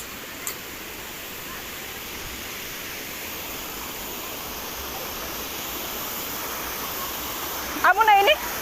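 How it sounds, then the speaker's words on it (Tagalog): Kawali Falls waterfall heard as a steady, broad rushing roar outdoors, constant and fairly loud, with a short burst of a voice near the end. "Ito na daw yung sinasabi nilang Kawali Falls."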